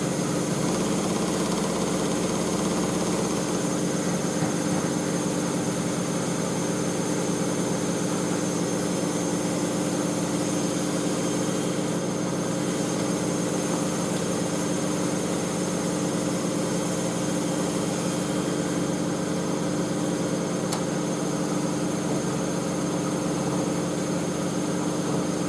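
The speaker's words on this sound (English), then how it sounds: "It's a shorter intermediate spin that we do" A Miele W562 Prestige Plus 6 washing machine runs a short intermediate spin on a 95°C cottons wash of whites, giving a steady, unbroken whirring drone at constant loudness with no voices.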